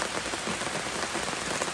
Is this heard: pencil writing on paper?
no